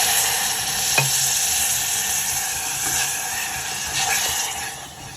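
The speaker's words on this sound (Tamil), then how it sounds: "நான் இப்போ இதுக்கு 1 டம்ளர் நாட்டு சர்க்கரை போட்டு பால் காய்ச்சிக்கிறேன்" Jaggery and milk heat in a pan on the stove, giving a steady soft sizzle and bubbling hiss with a faint clink of a spoon early on, close and alone, with no voices.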